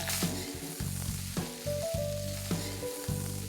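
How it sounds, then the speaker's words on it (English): Five medium onions frying in oil with cloves and green cardamom until brown, a steady bright sizzle broken by repeated rhythmic clanks and scrapes of stirring against the pan, close with no talk. "And now I'm going to add 5 medium-sized onions. I'm going to fry this till it's nice and brown."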